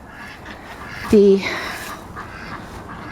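Backyard garden ducks give one short nasal quack amid outdoor background noise, while a person talks nearby.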